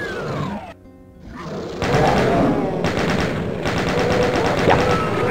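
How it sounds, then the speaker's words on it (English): A Doom II chain gun opens up in rapid sustained bursts, a loud steady rattle of shots after a brief pause, with growling monsters mixed in and close, intense gunfire throughout. "Let's put on the chain gun because I want shells"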